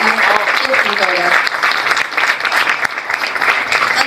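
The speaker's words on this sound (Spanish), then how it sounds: "Con un aplauso a la escritora nacional Silvia Ramos de Marco" An audience at a book presentation applauds the national author Silvia Ramos de Marco, a loud continuous round of clapping close by, with a voice briefly audible early on.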